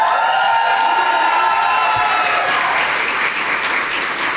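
A large crowd at a campus rally applauds and cheers, with steady clapping layered under whoops and shouts that swell and stay loud throughout.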